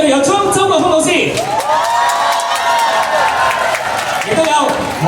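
A packed crowd of fans cheers, whoops and claps at a singing contest meet-and-greet in a four-storey shopping mall, loud and continuous, with an amplified voice talking over the noise.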